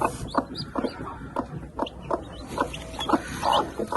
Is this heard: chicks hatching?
yes